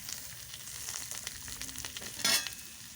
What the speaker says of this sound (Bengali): সোয়াবিনগুলো দিয়ে দেব।